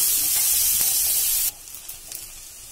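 Loud steady hissing of garlic sizzling in a pan, abruptly shifting to a softer crackling sizzle as chopped onion is added.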